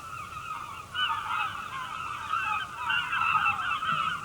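Several gulls call repeatedly with harsh, honking cries at a sewer outfall near Mewstone Rock, overlapping and fairly close, over a faint background hiss.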